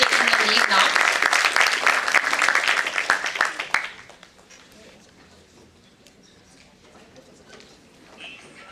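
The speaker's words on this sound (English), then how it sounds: "please guys give a huge round of applause for Sangeeta ma'am" Audience applause for Sangeeta at a Y20 brainstorming session, a loud dense burst of clapping lasting about four seconds before dropping off to quiet room noise with a few scattered claps.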